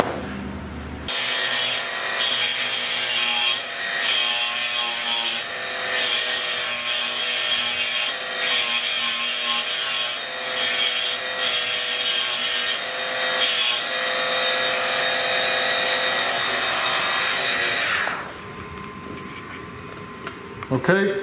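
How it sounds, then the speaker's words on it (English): A Dremel rotary tool grinds down the broken end of a car tail light, a loud, sustained high-pitched whine with brief pauses and shifts in pitch, ending after about eighteen seconds. "we're going to start by leveling off this broken end with the Dremel tool before we try and drill it"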